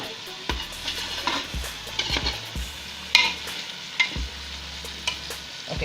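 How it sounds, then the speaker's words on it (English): Chicken and tomato fry in a pan, a steady low sizzle broken by several scraping stirs and clinks of a utensil against the pan, close by with no talking. "Now I'm waiting for my chicken and tomato to fry a little bit."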